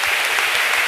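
A church congregation bursts into steady, dense applause at a Christmas-season worship gathering, a continuous wash of many hands clapping close and loud with no voices over it.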